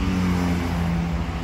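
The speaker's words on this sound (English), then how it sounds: "You can hear all the cars and trucks passing me right now" Cars and trucks pass on a highway beside a broken-down old car, a steady close roar of traffic with a low engine drone throughout and no talking.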